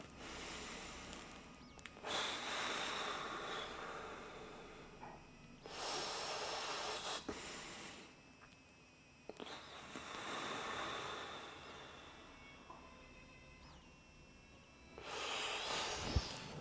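Slow, controlled yoga breathing through an open throat, with long airy inhales and exhales alternating in a steady rhythm, close and soft with pauses between breaths.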